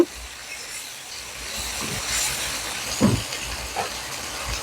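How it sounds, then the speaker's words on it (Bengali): Onion paste and ginger-garlic paste frying in a pan, giving a continuous soft hiss and sizzle with a few small pops, moderately quiet and steady throughout. "এখানে দিয়ে দিব পেঁয়াজ পেস্ট এবং আদা রসুন পেস্ট পেঁয়াজ রসুনটা একটু ভেজে নিব"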